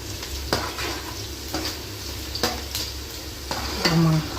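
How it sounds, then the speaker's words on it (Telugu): Chopped onions deep frying in oil in a pan, a steady sizzle under repeated clinks and scrapes of a utensil stirring against the pot. "సో మనం కట్ చేసుకున్న ఆనియన్స్ అన్నీ ఆయిల్ వేసుకొని డీప్గా ఫ్రై చేసుకోవాలంటే బ్రౌన్ కలర్ వచ్చే వరకు ఫ్రై చేసుకోవాలి."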